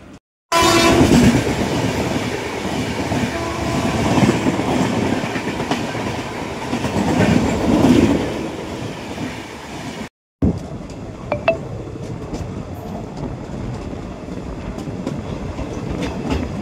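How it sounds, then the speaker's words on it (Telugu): The 17253 Guntur–Aurangabad Express meets and passes another train. A loud, close, continuous roar of rolling wheels and wagons is joined by horn blasts, then the rumble resumes after a brief gap. "ఈ రెండు ట్రైన్లు అయితే ఇక్కడ కలిసాయన్నమాట కన్పూర్ దగ్గర."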